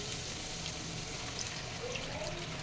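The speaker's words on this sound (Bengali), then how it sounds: "এবার আমি দিয়ে দেবো জল।" Water poured into a pan of cooked spice masala for a paneer-style vegetable curry, a steady close hissing pour and sizzle lasting a few seconds without talk.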